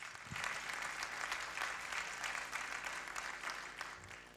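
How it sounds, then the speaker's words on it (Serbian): A studio audience claps steadily for a few seconds, a dense, moderately distant round of applause with no clear voices over it. "ajmo aplauz"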